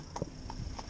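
A cob horse's hooves clip-clop at an easy walking pace, three or four light, evenly spaced hits on the road during a morning drive, fairly faint under a steady background hum.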